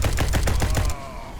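Rapid automatic assault rifle fire from the space-combat game SpaceBourne 2: a loud burst of about eight evenly spaced shots over roughly a second that cuts off into a faint lingering tail.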